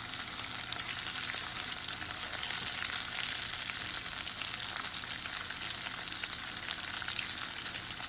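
Ridge gourd sautéing in a pan makes a steady, dense sizzle that holds evenly the whole time, close and fairly loud, with no voices over it.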